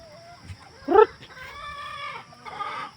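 A chicken lets out a sharp cluck followed by a drawn-out squawking call, fairly close in an otherwise quiet setting.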